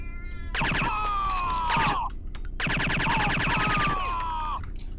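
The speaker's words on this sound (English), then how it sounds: "It sounds like a real cat" Cat meows from the video game SHOGO: Mobile Armor Division, two long drawn-out synthetic-sounding meows in a row, loud and clear with no talk over them.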